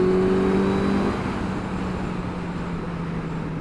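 A Suzuki GSX-S1000 motorcycle accelerates on the road, its engine tone droning strongly and then easing into a steadier rush of wind and road noise as speed builds.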